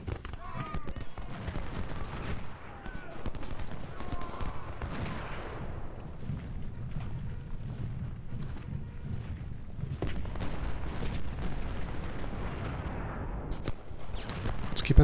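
Dense gunfire from a battle in the video game Ultimate General: Civil War, with a steady clatter of rifle volleys and heavier booms rolling on for the full length, and a voice at times mixed into the din.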